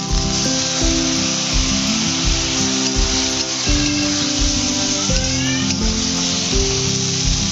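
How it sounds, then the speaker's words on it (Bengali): Roasted cumin paste sizzles steadily in a pan while cooking potol ghonto, a pointed gourd dish, a continuous close frying hiss running under background music throughout. "ভাজা জিরেটা দিয়ে দেবো।"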